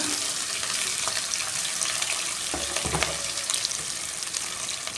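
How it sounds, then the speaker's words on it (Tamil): Chopped onion and green chilli sauté in a pan for a spinach stir-fry, giving a steady hiss with watery, splashy texture and a short low thump of stirring, with no talking. "இப்போ பச்சை மிளகாயும் போட்டுக்கலாம். வெங்காயம் கட் பண்ணி வச்சுருக்கேன் குட்டி குட்டியாக, அதையும் போட்டுக்கலாம்."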